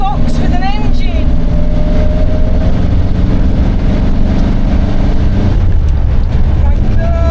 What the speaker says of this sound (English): It's like driving a cardboard box with an engine.